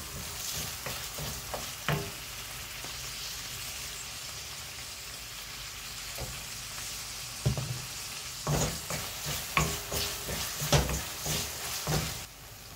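Tomatoes being sautéed in a pan for vendakkai puli kulambu, with steady low sizzling under repeated spoon strokes against the pan that come in clusters, near and clear.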